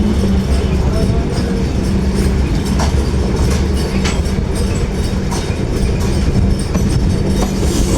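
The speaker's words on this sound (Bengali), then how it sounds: "সেতাবগঞ্জ রেলওয়ে স্টেশন আমরা ক্রসিং হচ্ছি।" A passenger train bound for Dhaka rolls through Setabganj station, heard from inside an air-conditioned coach: a loud, steady rumble of wheels on rail with scattered clacks over the track joints and points.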